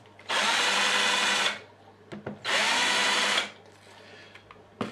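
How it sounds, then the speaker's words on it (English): Two loud bursts of a power drill whirring close by, drilling small rough dimples into a piece for a divided aquarium tank, each about a second long, separated by brief clicks and handling noise. "drilled loads of little rough dimples in it with my drill"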